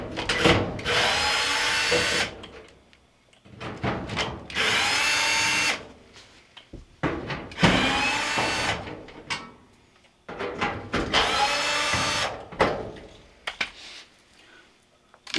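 Power drill backing screws out of a Maytag dryer's front panel during a blower wheel repair, four loud whirring bursts of about two seconds each, separated by short pauses with faint clicks and handling.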